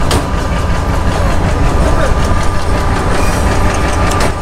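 Banglabandha Express pulling out of small rural Ruhia station on the Panchagarh–Rajshahi run, a steady loud rumble of wheels and carriages with faint clickety-clack, close and continuous throughout.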